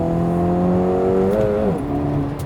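An Acura Integra Type S drives along with a steady engine hum and harmonic drone that dips briefly, as if shifting gear, then settles again.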